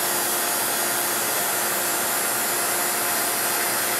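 A vacuum chamber pump runs as a loud, steady, unbroken mechanical whir with a broad hiss, close by and alone.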